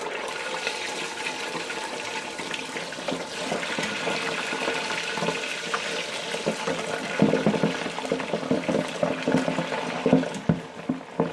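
Pieces of griot (Haitian fried pork) lowered into a deep fryer set off a continuous loud bubbling, rushing sizzle that grows busier and more crackly toward the end, with no voices.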